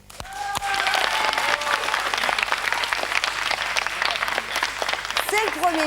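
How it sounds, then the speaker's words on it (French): Studio audience applause on a live French television show, loud, sustained clapping from a crowd that starts abruptly and holds strong, with voices and cheers mixed in. "On applaudit ?"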